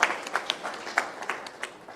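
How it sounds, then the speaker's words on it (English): A conference audience at a national road safety conclave gives a brief round of applause, scattered, fairly faint claps with distinct individual hits spread through the room. "I want to give a round of applause to this."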